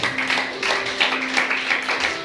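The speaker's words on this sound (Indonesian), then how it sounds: "Tepuk tangan bagi Allah kita." A church congregation applauding during a Sunday service, a steady patter of many hands clapping together for a couple of seconds with a faint tone underneath.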